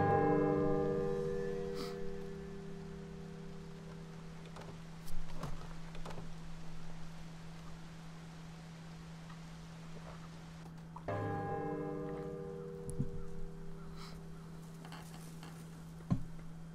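A temple bell rings out twice in the Shadow Tactics video game, each deep, sustained metallic strike decaying slowly over several seconds, with faint ticking and soft clicks in between and no speech.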